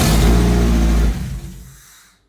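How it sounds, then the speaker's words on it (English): A Mazda Miata engine, with airbags, heat, AC and extra parts removed, cranks and revs loudly for about a second, then sputters and winds down into quiet. "I'm going to do a little test and try and start the car"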